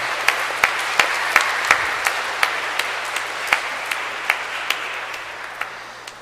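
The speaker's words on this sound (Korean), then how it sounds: "축하의 박수 부탁드립니다" Congratulatory applause from a church congregation at a baptism ceremony, many people clapping steadily in a large echoing space, with sharper individual claps punctuating the wash and slowly tapering.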